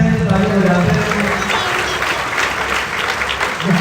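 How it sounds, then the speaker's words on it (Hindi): An audience at a motivational speech in Indore breaks into loud, sustained clapping, a dense crowd of hands close and steady throughout, with a voice briefly heard in the background. "तो ताली बजाते हैं"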